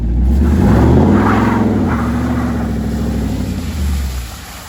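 A Dodge Daytona with its mid-muffler deleted slides through snow, its engine note loud and close with a steady low drone that rises briefly in a rev before easing off.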